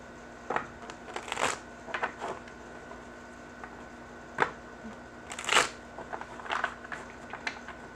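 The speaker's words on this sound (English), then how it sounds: "Shuffling cards." A deck of tarot cards is shuffled nearby in several quick riffling bursts separated by short pauses, with a faint steady hum underneath.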